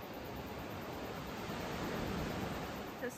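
Ocean surf rolls in near a beach below a coastal track at Cathedral Cove, heard as a steady, soft wash of broadband noise without distinct breaks or voices.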